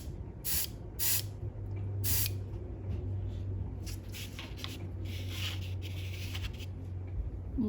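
Airbrush spraying paint onto tabletop miniatures, short hissing bursts close up at the start, then softer intermittent spray over a low steady compressor hum.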